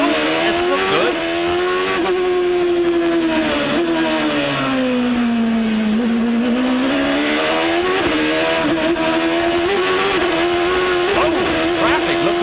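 Onboard a Champ Car at the 2005 San Jose street race, the engine howls loud and constant, its pitch rising and falling with throttle and dwelling at the top of the rev range, beneath a commentator's voice.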